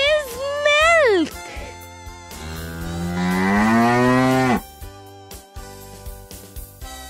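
A cow moos twice, a short rising call followed by a long, loud, drawn-out low moo, with brief quieter sounds after it.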